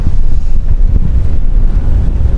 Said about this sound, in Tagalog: Lalakas yung hangin.